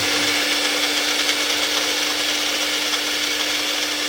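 A mixer grinder whirs steadily as it spins sandwich chutney, a continuous loud motor drone with a fixed hum running evenly throughout and no talk.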